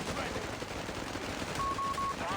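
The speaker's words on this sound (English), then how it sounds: "But my machine gun is still defending, also now it's level 1." Machine gun fire in the Company of Heroes 3 strategy game, dense continuous battlefield gunfire with a brief tonal whine near the end, loud and steady throughout.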